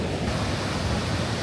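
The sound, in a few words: roar of Iguazu Falls waterfall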